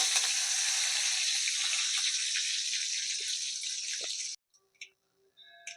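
Mustard seeds and curry leaves tempering in hot oil, a bright steady sizzle that fades and cuts off abruptly, followed by a few faint clinks and spits.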